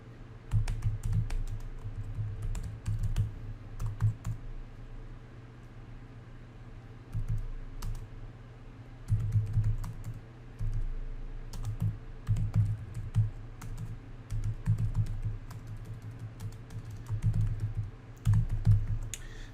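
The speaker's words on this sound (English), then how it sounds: "I will type some things out and then explain them." Code being typed on a computer keyboard: steady bursts of close, rapid key clicks with brief pauses between runs, carrying on alone without any speech.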